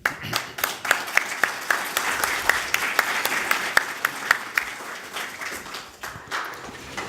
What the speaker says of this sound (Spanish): es para mí un honor introducir al doctor Jeffrey Hewings con un aplauso.